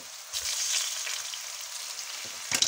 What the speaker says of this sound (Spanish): echamos los champiñones. Y le damos aquí un salteado rápido